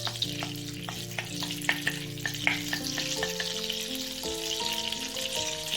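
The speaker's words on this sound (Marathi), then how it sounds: "तरी आपलं बटर जे आहे ते छान असं वितळेल।" Butter melts in a hot pan for pav bhaji, giving a steady, close crackling sizzle that runs unbroken throughout while a soft melody plays over it.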